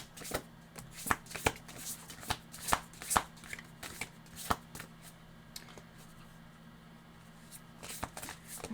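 A deck of cards is shuffled for a card reading, giving a run of close, crisp riffles and slaps in uneven bursts that gradually thin out and grow quieter.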